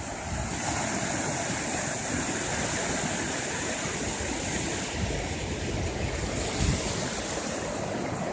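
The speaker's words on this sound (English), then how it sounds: "Tide's rolling in." Pacific Ocean surf rolling onto a beach, a continuous broad roar of breaking waves with a slight swell midway, no voices, steady and fairly close.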